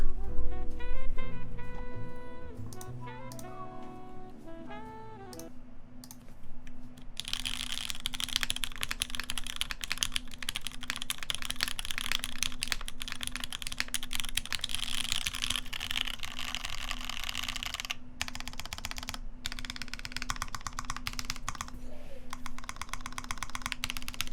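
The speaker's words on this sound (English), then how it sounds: "Let's hear what this keyboard sounds like." Mechanical keyboard with Cherry MX Black switches typing: a rapid, steady stream of clacky keystrokes, close and fairly loud, continuing for a long stretch after a brief burst of tonal sound at the start.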